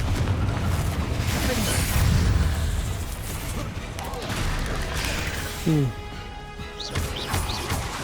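A Confringo spell blast in Hogwarts Legacy: a dense, continuous roar of crashing and explosive noise fills the scene, with a short thump near the end and faint game effects over it.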